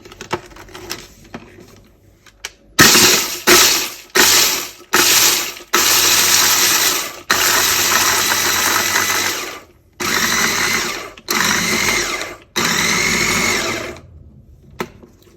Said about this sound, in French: Je vais rajouter l'ail, le gros sel, et je vais commencer à mixer.